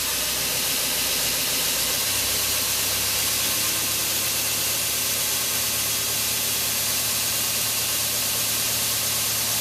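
A new angle grinder takes metal off a piece of scrap metal, giving a loud, steady, unbroken grinding hiss that lasts throughout.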